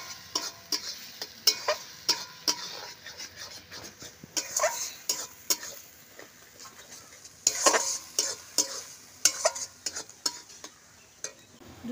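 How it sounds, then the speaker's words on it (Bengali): Spice paste with Kashmiri chili powder and a little oil is stirred in a pan with a spoon, sending out sharp irregular scrapes and clinks over a steady soft sizzle of frying. "দিয়ে এখন মশলাটা ভালো করে কষিয়ে নেব।"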